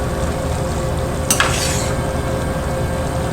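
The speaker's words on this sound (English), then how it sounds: "So, we'll give it a quick little stir" Rice and cabbage stirred in an unstuffed cabbage roll casserole, a brief spoon scrape and clatter against the pot over a steady background hiss, close and short.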